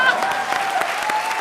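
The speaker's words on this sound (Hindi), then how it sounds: "जोरदार तालियां" Dense, steady applause from a studio audience at a Hindi TV comedy show, sustained and loud throughout without a break.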